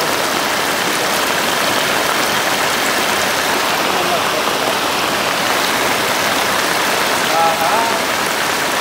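Water gurgles and splashes steadily at the Bhalu Khola stream source, a dense close rush that runs unbroken, with a brief faint tonal sound near the end.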